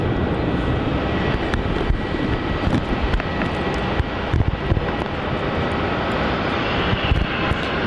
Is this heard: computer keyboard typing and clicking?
no